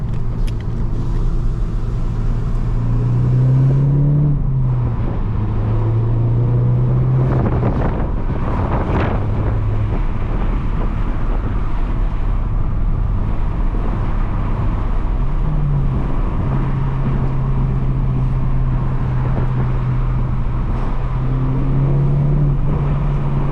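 Cabin of a 300 hp VW GTI under way with the windows down, a steady wind-buffeted engine drone with rising and falling turbo and intake tones as it accelerates and eases off.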